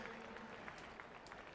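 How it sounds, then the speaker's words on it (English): Spectators at a campdraft, a horse-and-cattle event, applaud in a soft, continuous wash of distant clapping with faint crowd murmur. "Give her a round of applause, the lovely lady there, and Ali Sadler."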